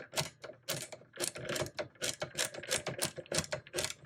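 Light metallic clicking in a steady, rapid rhythm as a nut is threaded onto a bolt by hand while reassembling a Tektronix 500 series oscilloscope part. The clicks are close and distinct and sound on their own, with no talking.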